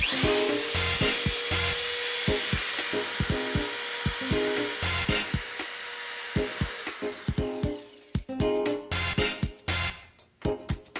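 A drill fitted with a mixer paddle churns CN2000D ceramic glaze in a bucket, giving a steady loud whirring grind with repeated knocking and scraping against the container. Near the end it stops and gives way to a few scattered clunks.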